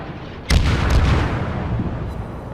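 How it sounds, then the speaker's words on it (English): A battleship's naval guns fire in World of Warships, one sudden loud boom near the start that rolls into a long rumbling roar, with a few fainter shot onsets following in a dense battle din. "I decided to start firing at this battleship over here"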